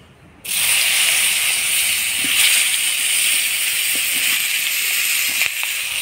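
Eggplant pieces coated with turmeric and salt sizzle in hot oil, a steady loud hiss that begins abruptly and holds evenly throughout, with no talking.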